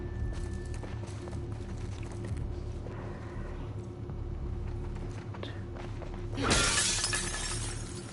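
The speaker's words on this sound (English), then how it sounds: "I love the sound of the glass breaking in this game. Really good sounding glass break." Glass shatters in The Last of Us Part 2 video game: a single loud, bright breaking crash near the end, over ongoing game ambience and soft footsteps.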